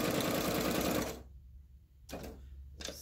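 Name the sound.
sewing machine stitching zigzag on paper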